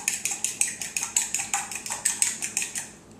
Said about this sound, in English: So I have an egg in here, and I'm just going to whisk it